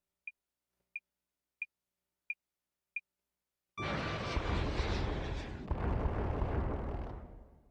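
In a video game, five evenly spaced lock-on beeps lead into a loud missile explosion, a sudden heavy blast that rumbles on and swells again before fading out.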